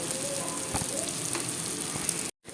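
Spice paste of green chilli paste and ground coriander fries in hot oil for a bhangal fish dish, a loud, continuous close sizzle with small crackles before a brief cut to silence near the end.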